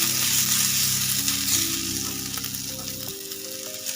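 Ginger and garlic sautéing in a pan for a Marathi besan dubuk vadi bhaji, a loud dense sizzle that eases slightly after three seconds, with faint steady tones beneath and no talking.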